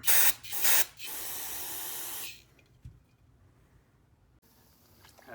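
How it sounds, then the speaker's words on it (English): Degreaser sprayed onto brake parts from a 1978 Yamaha XS1100 that sat for 20 years: several loud, close hissing spray bursts in the first two seconds, then one long steady spray before near silence with faint handling noises. "Spray it down real good with some degreaser."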